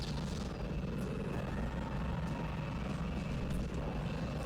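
Roaring engines of vehicles driving past a home beside a speedway in the video game Go Vacation, a steady, loud, dense drone throughout without pause.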